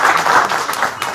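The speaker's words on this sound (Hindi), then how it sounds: "एक बार मैं चाहूंगा सभी लोग तालियां बजाकर" People at a journalists' union event marking Hindi Journalism Day clap together in a short burst. The applause is close and fairly loud, fluttering unevenly, and no voices are heard.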